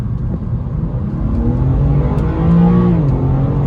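A 2021 BMW G80 M3 Competition accelerates on a road in Norway, its engine drone steady and loud, climbing in pitch as it pulls harder, heard alone without talking.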